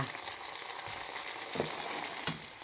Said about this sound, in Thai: ตอนนี้ก็ได้ผัดน้ำมันหอยแล้วนะจ๊ะ